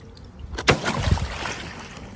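Aiper Seagull Pro cordless robotic pool vacuum plunged into pool water, a sharp splash followed by sloshing and bubbling gurgles that settle over a couple of seconds.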